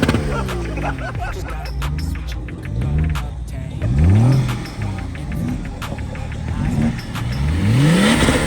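A BMW car pulls in with its engine close and loud, revving up and easing off several times in rising and falling sweeps over a steady rumble.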